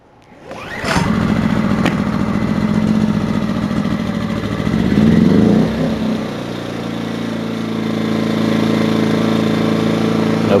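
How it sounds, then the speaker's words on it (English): A Tacklife GEG001 2000-watt inverter generator pulls into life on choke after a sharp start, then runs steadily with a loud, buzzing engine drone that shifts pitch midway before settling into a smooth, even hum. "so pull it very easy on choke and let's see what it does."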